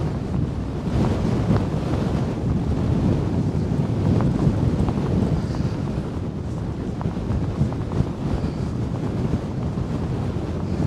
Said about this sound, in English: The wind is always strong here